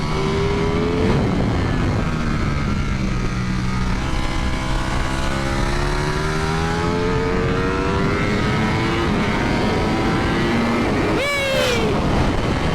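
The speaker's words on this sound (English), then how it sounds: "you actually really get a chance to open up a 200 horsepower bike" A 200-horsepower Ducati motorcycle accelerating hard on a race track at World Ducati Week, its engine note climbing and falling through long sweeping revs, loud and continuous, with a sharp high-pitched rise near the end.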